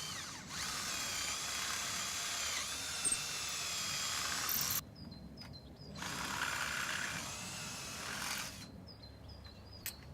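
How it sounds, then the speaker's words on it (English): A power drill bores through a wooden greenhouse post at the hole of a P-clip, in two sustained whirring bursts of about four and three seconds separated by a short pause, with a lighter clicking sound in the gaps. "Drill the post through the hole in the P-clip and bolt in place using a cross-headed roofing bolt."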